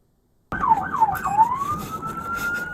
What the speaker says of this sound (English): he is using the horn right here to change the siren tones